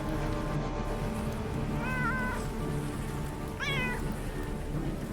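A cat in the Underrail video game gives two short meows a couple of seconds apart over a steady hiss of rain-like ambience.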